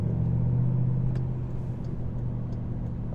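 A 500 hp SRT car cruises in sport mode on a bumpy back road in Alaska, its engine a steady, loud low rumble heard from inside the cabin, with no talk.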